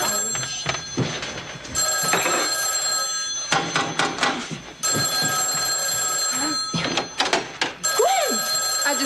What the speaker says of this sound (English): I just dropped by to tell you your phone was ringing.